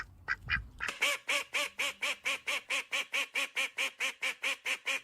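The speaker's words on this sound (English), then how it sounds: "Look at that duck." A duck quacks in a long, evenly spaced series of loud, nasal calls, about four per second, close by, after a few brief opening sounds.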